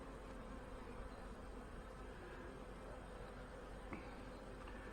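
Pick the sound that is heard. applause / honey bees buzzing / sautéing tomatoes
honey bees buzzing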